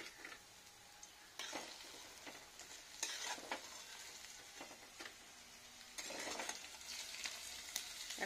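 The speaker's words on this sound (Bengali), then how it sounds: "ও এখন তেলটা ফুটছে" Beetroot and potato fritters frying in hot oil with coriander, capsicum and green chilli, a steady soft sizzle broken by louder bursts of crackle and scraping as pieces are stirred and turned.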